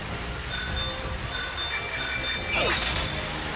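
A bicycle bell trills in quick, bright rings over a steady background hum in the video game Pokemon Shield, the ringing fading partway through.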